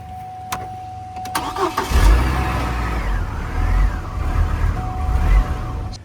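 A Hummer H3 with a new battery cranks over and fires, its engine catching and settling into a loud, close, rumbling idle that continues steadily with no talking.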